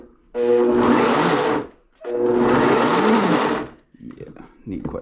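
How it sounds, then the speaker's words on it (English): A kitchen blender chopping vegetables for raw dog food patties, two loud whirring bursts about a second and a half each with a short gap, followed by clattering and rustling; a person talks around it. "My wife usually uses the blender."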